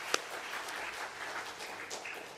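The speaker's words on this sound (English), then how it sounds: "Give her another round of applause." Applause from the audience at a ladies' meeting with a talk on dementia, a brief dense patter of clapping from a seated crowd, fairly even in level, with one sharp clap near the start.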